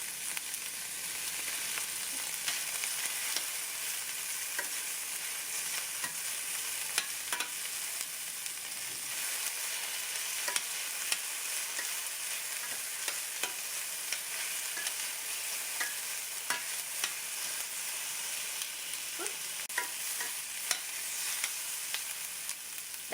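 Poblano peppers frying in a pan, a steady close hiss of sizzling with scattered pops and faint scraping as they are tossed, continuous and even throughout.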